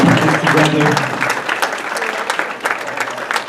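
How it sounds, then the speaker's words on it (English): A crowd at a school hall of fame ceremony claps for the food staff, loud and dense at first, then thinning and fading slightly, with faint voices underneath. "let's give a round of applause to the food staff"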